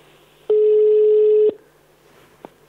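A single steady telephone ring tone on a bingo game show's live phone call lasts about one second, loud and clean, followed by quiet line hiss and a faint click.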